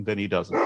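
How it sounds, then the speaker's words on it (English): A dog barks a few short, close yips in quick succession, overlapping someone speaking. "Excuse the dog, please."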